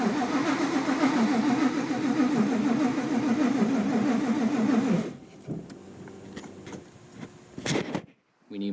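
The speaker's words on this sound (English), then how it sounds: "I can't rev it super loud. But let's do it a couple more times." Supercharged, cammed Ford Coyote V8 revving hard for about five seconds with a loud, rough, pulsing exhaust note, then cutting to a lumpy idle with a few short blips and clicks.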